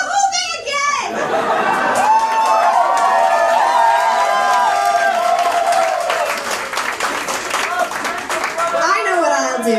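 Concert audience at a show claps and cheers loudly and continuously, with shrill shouts and whoops, and a singing voice drifting through the middle of the ovation.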